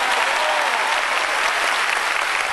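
A church congregation claps loudly in a steady, dense wash of applause throughout, with no pauses, during a Bible study gathering in Buenos Aires.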